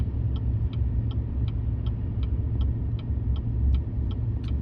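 A truck in four-wheel drive, second gear, tows a 14,000 lb trailer at about 16 mph down a steep 17% snowy grade in a Colorado blizzard, giving a steady low engine and road rumble with regular faint ticking throughout.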